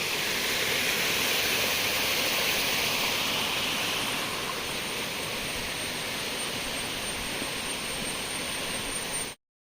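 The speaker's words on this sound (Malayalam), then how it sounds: "എല്ലാ സ്ഥലത്തും ചെറിയ ചെറിയ അരുവികൾ ഇങ്ങനെ ഒഴുകി വരുന്നു മഴക്കാലത്തെ." Small monsoon streams on the misty Paithalmala hill rush in a steady, broad hiss of flowing water, loud and unbroken, then cut off abruptly near the end.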